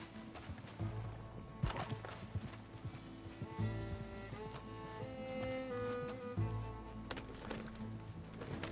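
A horse in Red Dead Redemption 2 clops along in a steady hoof rhythm, moderately close, with game music playing over it and a neigh or two mixed in.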